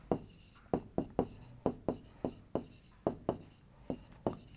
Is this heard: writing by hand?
yes